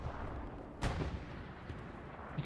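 Artillery fire in a WWII video game: a steady rumbling battlefield din with one sharp, loud blast near the start, followed by fainter thuds.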